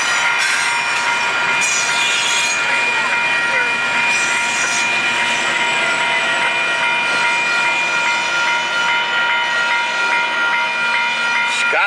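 Amtrak California locomotive and train rolling past at close range in Stockton, California, loud and continuous, with metallic wheel squeal and rattling cars throughout.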